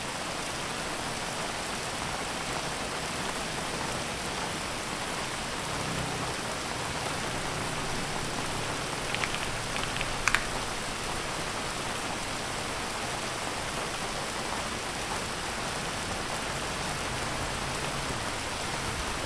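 Steady rain falling in hot, windy weather, a dense even hiss that fills the whole stretch with one brief knock partway through and no voices.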